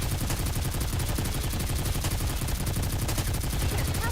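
Rapid, continuous gunfire from the mobile shooter game Goddess of Victory: Nikke, a dense, steady barrage of repeated shots at constant loudness across the whole stretch, with no voice over it.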